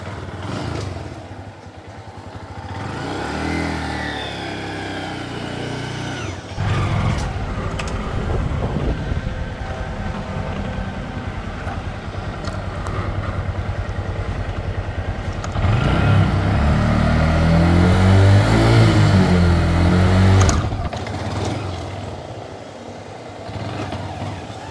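Honda Grom motorcycle revving during wheelie attempts, the small engine rising and falling in loud surges over about twenty-five seconds, with strong bursts of throttle toward the end.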